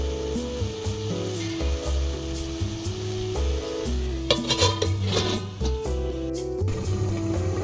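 A spoon stirs gab leaf curry in a pan, scraping and clinking in repeated strokes at close range, with a faint sizzle beneath and a steady tonal hum running through.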